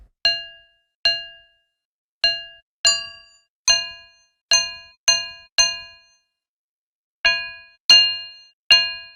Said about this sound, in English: adjust the ADSR to make this pluck sound instead of sustained sound